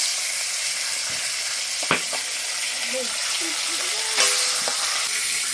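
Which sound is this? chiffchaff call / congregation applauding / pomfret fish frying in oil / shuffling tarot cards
pomfret fish frying in oil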